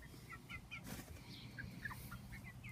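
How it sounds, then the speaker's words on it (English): Several chickens cluck softly and repeatedly close by, short chirpy calls scattered over a quiet background. "I had no idea that chickens were that friendly"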